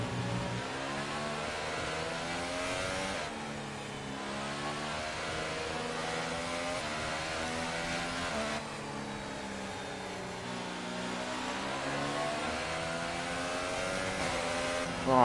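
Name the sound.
Formula 1 race car engine in video game F1 2018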